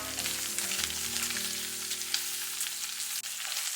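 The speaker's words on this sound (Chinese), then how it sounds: "然后下入葱姜蒜、小米椒，继续给它煸香" Pork belly stir-fries in a hot wok with scallion, ginger, garlic and chili, giving a loud continuous close sizzle with a low hum beneath and no voices.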